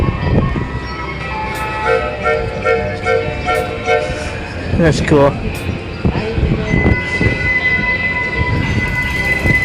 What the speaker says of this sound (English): There's that little train riding.